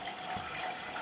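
Tamarind water is poured into a cooking pan holding fried curry leaves, giving a soft, continuous liquid gush and splash, close and moderately quiet, with no talking over it.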